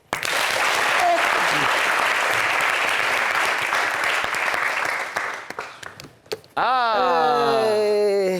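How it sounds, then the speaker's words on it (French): Audience at a talk show applauding loudly and continuously for several seconds, fading briefly before a speaking voice takes over near the end. "Vous pouvez applaudir, s'il vous plaît."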